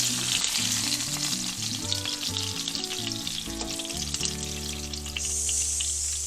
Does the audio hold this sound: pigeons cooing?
no